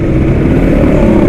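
Suzuki Shogun two-stroke motorcycle engine running hard at speed in second gear, a loud, close, continuous buzzing roar with no voices.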